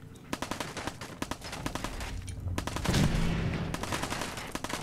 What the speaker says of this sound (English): It's that. It's someone shooting.